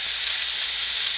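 Ground meat sizzles steadily in a hot wok as it is crumbled, a dense, even frying hiss held close and loud with no pauses.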